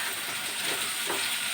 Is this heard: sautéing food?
yes